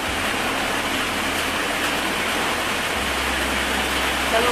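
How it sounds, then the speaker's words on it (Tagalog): Heavy rain pours down in a dense, loud and steady hiss that fills the whole clip, with a low rumble underneath. "Malakas po ang ulan"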